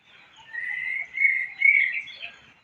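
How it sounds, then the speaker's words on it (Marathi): A single bird calling in a rising, wavering series of whistled notes, fairly close and clear, with no rain audible. "पक्षी बघा पावसामध्ये कसे ओरडतायत झाडावरती"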